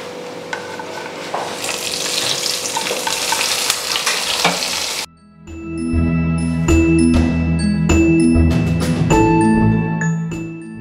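Hot tempering poured into pineapple kichadi sets off a loud, steady sizzle for about five seconds, then a sudden drop to quieter clinks and tinkling of a spoon and pan.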